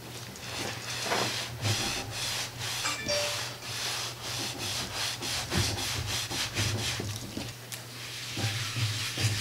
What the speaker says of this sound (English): I'm just gonna scrub it a little bit and it'll come up.